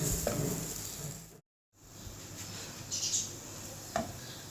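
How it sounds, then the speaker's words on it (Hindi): Coconut halwa is stirred in a pan over low heat, producing a faint steady sizzle with soft scraping strokes and a brief silent gap partway through, with no speech. "बस इसको अच्छी तरह मिक्स कर लेंगे। इसको मिक्स करके फिर मैं उतार दूँगी।"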